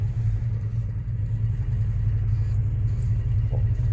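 A 2003 Infiniti G35 engine with a misfire and camshaft sensor faults idles steadily, a constant low rumble heard close with no talking.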